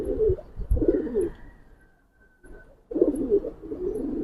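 Gribaz bagha pigeons coo in low, throaty bursts, two close rolling calls, a brief near-silent pause, then another run of cooing, loud and close with no voices.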